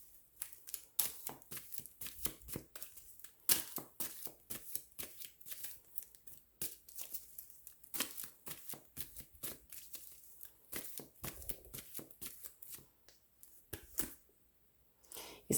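A deck of cards is shuffled for a card reading, close and fairly quiet, with repeated rapid riffling bursts and soft slaps falling in an uneven rhythm throughout.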